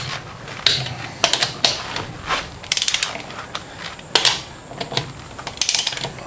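Hand ratchet loosening the wheel nuts on a Mazda BT50 ute, a series of crisp, close clicking bursts in quick runs with short pauses between them, alone without talk.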